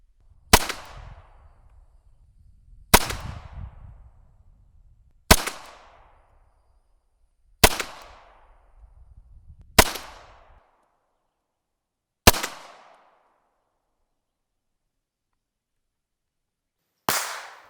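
German Mauser C96 pistol firing: seven sharp, loud reports spaced a couple of seconds apart, each with a short decaying echo, then a longer pause before the last shot; no talk.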